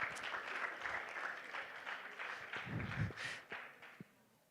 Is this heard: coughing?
no